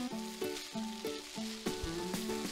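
Rice with vegetables, green onion and sesame oil sizzles as it is stir-fried in a pan, with steady frying hiss and rhythmic scraping stirs repeating every half second or so.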